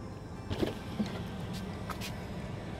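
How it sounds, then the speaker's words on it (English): A Tesla Model 3 door opening from its electronic door handle: a soft motorized whir and latch click, with a few faint knocks and rustles against a steady low background hum. "Press the little door handle. Dink."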